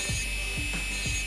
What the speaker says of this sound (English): Em dũa từ từ cho các bạn coi cái shaping. Cứ lấy cái carbide bit